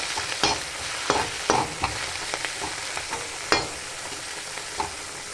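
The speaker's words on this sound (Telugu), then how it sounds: "ఇంకొంచెం ఆయిల్ వేసుకున్నాం ఇప్పుడు బాగా ఫ్రై చేసుకోవాలి" Fenugreek leaves fry in oil in a pan for a sesame-tomato chutney, a steady crackling sizzle broken by several sharp scrapes and clacks of a spoon stirring, close and unaccompanied by speech.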